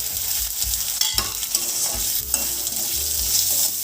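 Curry leaves, dried red chillies, yellow mustard seeds, chopped garlic and grated ginger sizzle in hot oil, a steady crackling hiss with a few spoon scrapes against the pan, close and continuous with no talking.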